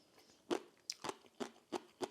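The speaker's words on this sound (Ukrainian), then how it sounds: "цей біленький грибочок мер дуже класно хрумтить" Close crunchy chewing of a white mushroom served with miso soup, five or six crisp bites spaced about half a second apart, with no talking.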